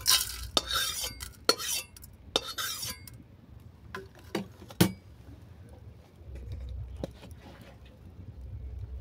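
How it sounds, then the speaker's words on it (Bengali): Dry-roasted spices are scraped out of a wok with a metal utensil, giving sharp, irregular clinks and scraping strokes, loud at first and then sparser, over a faint background hiss. "এগুলো কড়া থেকে নামিয়ে নিচ্ছি"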